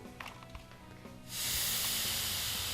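Steam hisses through a wet towel onto premade synthetic dreads, a loud, steady hiss that bursts on suddenly after a quieter start and holds to the end.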